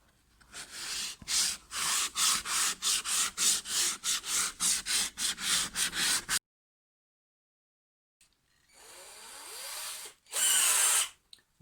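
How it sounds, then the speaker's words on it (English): Wood on a yurt window frame being power-sanded, a rapid series of short rough bursts of the sander working the surface for about six seconds, then silence, then a brief quieter pass and one last loud burst, close up. "now just gonna sand this all even"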